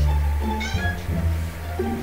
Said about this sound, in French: C'est ce petit chat, attendez.